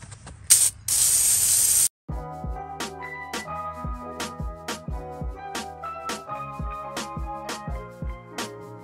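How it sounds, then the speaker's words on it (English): An aerosol can of degreaser hisses in a loud steady spray for about a second onto a Kohler 7000 Series riding mower engine, then stops; rhythmic ringing percussive music follows. "I'll put degreaser all under there, spray it right now."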